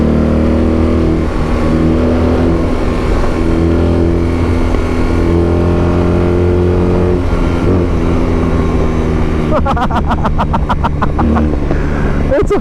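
A 2022 BMW R 18 Transcontinental motorcycle rides through corners, its engine a loud, steady low drone mixed with heavy wind rush, the pitch shifting slightly as it leans, with a rapid rattling burst near the end.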